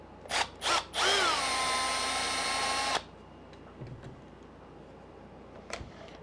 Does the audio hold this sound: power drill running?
yes